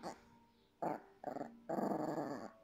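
A dog growls and whines indoors in three close, fairly quiet bursts, the last one longer and sustained, with short pauses between them.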